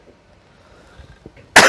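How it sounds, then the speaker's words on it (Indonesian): A single sharp, loud cough bursts out after near-silence, close by, during an Islamic religious lecture. "Itu batuk."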